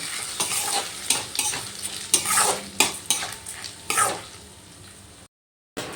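Rice being stirred and fried in a pan, heard as a steady sizzle broken by repeated scraping strokes of a spoon at close range, cutting off abruptly near the end.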